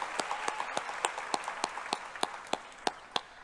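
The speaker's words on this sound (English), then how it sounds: "Let's give them a big round of applause." At a 2024 high school graduation, the audience gives sparse, sharp claps, about one every fifth of a second. They are heard alone and grow more widely spaced as the applause trails off.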